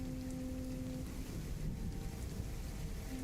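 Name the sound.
rain sound effect played on stream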